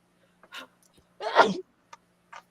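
A single sharp sneeze, close and loud, preceded by a short intake of breath, with faint small sounds around it in a quiet room.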